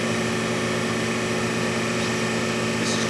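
A Clausing 1250 Magnum 25 x 88 inch lathe running at low speed, 25 RPM, gives a steady, loud mechanical hum and drone with no change in pitch and no talking.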